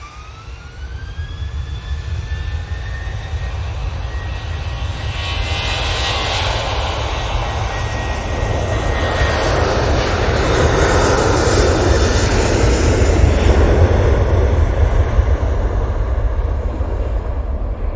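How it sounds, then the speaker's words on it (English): A Ryanair jet at Manchester Airport roars down the runway on takeoff, a loud, building rumble with rising whining tones that grows to a sustained peak and holds. "So Ryanair going off to Verona next."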